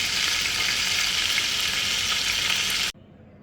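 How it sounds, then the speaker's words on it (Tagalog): Garlic and onion sautéing in a hot pan, a loud, close, steady sizzle that stops abruptly near the end, no talking over it. "dyan ko po igigisa yung ahos at saka sibuyas"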